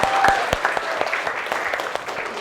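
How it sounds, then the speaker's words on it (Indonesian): A class of junior high students applauds together in a classroom, producing dense, fairly close clapping with distinct sharp claps that rolls steadily for a couple of seconds. "Oke, tepuk tangan untuk kita semua."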